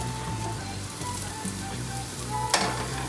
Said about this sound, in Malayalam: ഇതിലേക്ക് ഞാനൊരു സവാള ഇട്ട് കൊടുക്കുവാണ്.